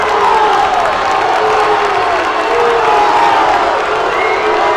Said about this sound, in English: And you can hear the Green Canyon crowd.